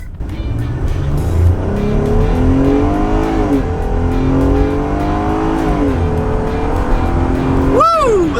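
A 2020 Jeep Gladiator accelerates hard in a full-throttle pull, its engine note climbing steadily through several gear shifts, loud and close from inside the cabin, with no talk.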